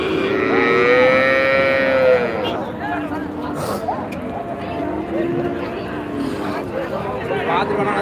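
A cow at the Manapparai cattle market in Trichy district lets out a long, loud moo, followed by fainter, quieter lowing calls amid crowd chatter and talking.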